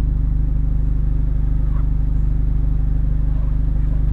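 A car engine runs at a slightly raised idle, a steady, deep, even rumble with fast regular pulses, loud and close throughout.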